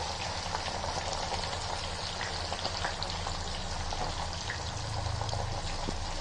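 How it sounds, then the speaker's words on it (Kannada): Fish frying in a pan of oil for a village-style fish fry, a dense continuous crackle and sizzle at steady loudness throughout, with no speech. "ಮೀನನ್ನ ಫ್ರೈ ಮಾಡ್ಕೊಳ್ಳಿ."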